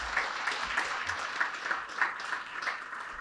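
An audience at a veterans' symposium gives a round of applause, steady clapping that goes on for a few seconds and is heard from a middle distance, fairly quiet.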